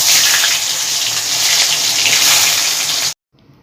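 Chopped onion goes into hot mustard oil with tempering spices, giving a loud, dense, steady sizzle that cuts off abruptly near the end.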